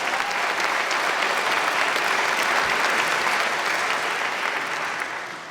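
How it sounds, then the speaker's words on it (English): Sustained audience applause fills a hall at a college athletic hall of fame induction ceremony, a dense, steady wash of many clapping hands at close range, holding level for several seconds before easing slightly at the end. "So, round of applause."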